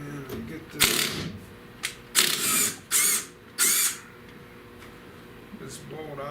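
A hand ratchet works a single bolt loose from a car's firewall during restoration prep, several sharp loud clicking bursts in quick succession, close up, with brief pauses between them.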